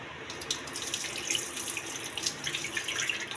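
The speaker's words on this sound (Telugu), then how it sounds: "నీళ్ళు శుభ్రం కడిగి నీళ్ళు వంపేయాలి" Tap water runs steadily while soaked millet rice is washed in a sink, a close, even splashing rush with no talk.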